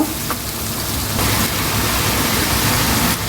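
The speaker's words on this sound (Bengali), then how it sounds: "পেঁয়াজ বাটা হাফ কাপ, পেঁয়াজটাকে খুব ভালো করে ভেজে নেব।" Onion paste fries in hot oil for a Bangladeshi katla fish curry, giving a loud, dense, continuous sizzle and crackle that swells slightly partway through.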